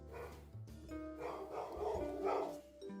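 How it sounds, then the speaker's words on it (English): A dog indoors barks in a short run of several sharp, loud barks over about three seconds, close by and alone with no talking over it. "Dog's barking."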